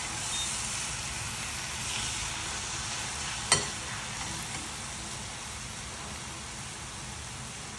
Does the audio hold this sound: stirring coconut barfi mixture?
yes